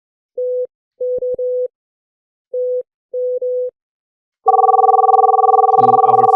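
A phone line rings on an incoming test call from a PSTN number to a Cisco CUBE gateway. Several short electronic tone beeps are followed by a loud, steady warbling ring that continues to the end. No one talks.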